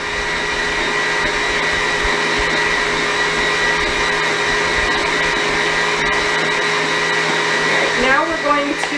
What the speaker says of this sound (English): then we're going to whisk this all together